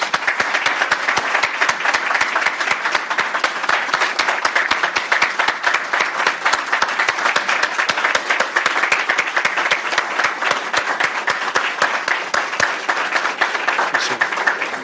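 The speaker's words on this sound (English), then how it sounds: "please stand and give them a round of applause" A town hall audience stands and applauds law enforcement officers, sustained loud clapping from many hands that holds evenly for about fifteen seconds with almost no talk.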